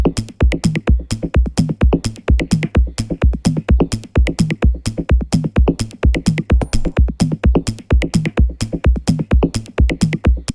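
Dense textural percussion loop for minimal deep tech house, pitched down for a darker modular character, with rapid steady clicky hits and low thumps repeating loudly and evenly throughout.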